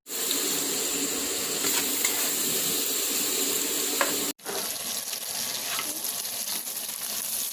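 Shrimp heads frying in oil in a wok for a mala shrimp dish, a close, loud, continuous sizzle with a brief cut partway through, no talking.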